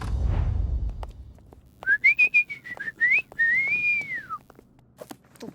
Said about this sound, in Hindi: ये आपको देखकर सीटी नहीं बजा रहे।